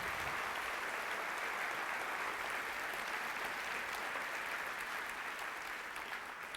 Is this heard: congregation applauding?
yes